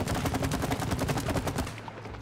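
Rapid gunfire in the video game It Takes Two fires as a fast, even stream of shots for about two seconds before cutting off.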